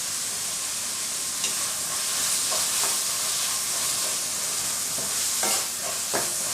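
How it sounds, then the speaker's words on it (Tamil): Onions sauté with rock salt in a pan for a poori potato masala, giving a loud, even frying hiss and occasional spatula scrapes and clicks close by. "வெங்காயம் நல்லா வதங்கி வரணும், அது வரைக்கும் நல்லா வதக்கிடலாம்"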